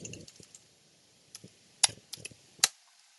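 Typing on a computer keyboard while writing code, with scattered key clicks at irregular intervals and several sharper, louder keystrokes standing out against a quiet background, no talking.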